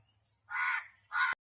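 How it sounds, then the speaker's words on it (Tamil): Crow perched at a house, giving two harsh, close caws in quick succession against a quiet background. "இந்த காக்கா எங்கள் வீட்லேயே வந்து உட்காந்துட்டு ரெண்டு மூணு நாளாக கத்திட்டே இருக்குங்க"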